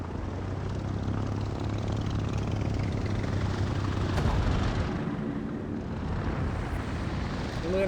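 Aircraft engine drone from a plane flying overhead in a naval combat video game with carriers and torpedo bombers, a steady loud broadband roar that swells and fades over several seconds amid game noise.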